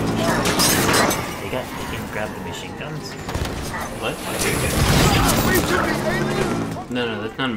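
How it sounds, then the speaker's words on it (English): Promethean weapon fire in the Halo 5: Guardians video game, a dense, continuous stream of energetic shots and mechanical booms mixed with game sounds and a talking voice throughout. "that's not a machine gun, that's a Promethean weapon"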